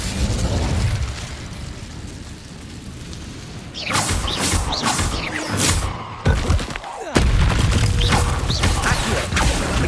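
Fiery spell blasts and magical impacts in Hogwarts Legacy on PS5, a dense wash of game noise broken by sharp bursts and whooshes, loud and continuous with clanking mechanical textures.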